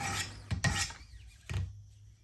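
A Schrade LB7 folding knife blade is stroked across a sharpening stone, a few close, quiet rasping passes separated by brief pauses.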